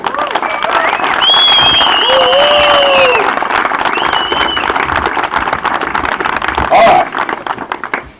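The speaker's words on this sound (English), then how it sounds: "give him another round of applause" Applause at an awards ceremony, a crowd clapping loud and continuous with whoops and whistles riding over it, tapering slightly toward the end.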